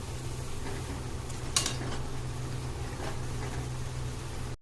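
Bitter gourd and ragi flour pakoras fry in hot oil with a steady, even sizzle, broken by one brief clink near the middle.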